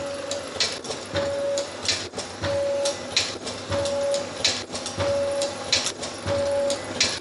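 An automatic nylon zipper ultrasonic cutting machine under computer control runs in a steady cycle, with rhythmic clacks and a short high ultrasonic whine repeating roughly every second, close and loud.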